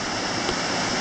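Ocean waves wash and rush continuously beside abandoned seaside cave houses, a loud, steady broadband roar with no talk.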